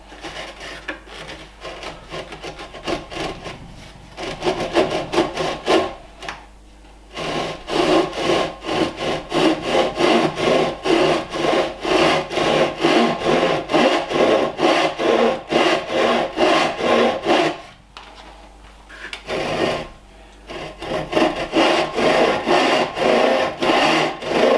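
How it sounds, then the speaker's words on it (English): A hand saw cuts through wood with steady back-and-forth rasping strokes, loud and close, pausing briefly twice before resuming, while traditional woodworking tools are used to build a Viking-style bed. "I have some sort of starting edge for the saw here as well."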